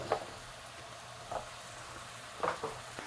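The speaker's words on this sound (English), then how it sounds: "Let the mushrooms cook away and shrink down" Mushrooms sizzling in a pan while cooking for mushroom rice, a steady low frying hiss with a few brief louder crackles and stirring bursts spaced through it, heard close and without talk.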